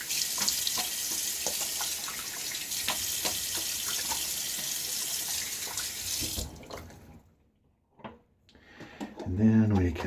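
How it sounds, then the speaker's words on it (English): Tap water running into a bathroom sink and splashing as hands scoop it onto a freshly shaved face, a steady rushing stream that cuts off, then a few brief close splashes. "Do a quick splash on my face."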